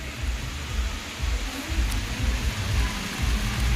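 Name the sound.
light drizzling rain outdoors on island beach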